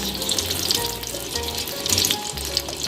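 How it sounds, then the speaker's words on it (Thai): Vegetables, kale sprouts, stir-fried in coconut oil with oyster sauce in a pan, giving a steady, close sizzle and crackle with a watery hiss that runs without a break. "วันนี้พี่ปูใช้น้ำมันมะพร้าวนะคะ ผัดไปเลยนะคะ"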